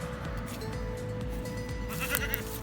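Goats penned in a movable sheep and goat tractor bleat in wavering, drawn-out cries over a low hum, the calls close and fairly loud.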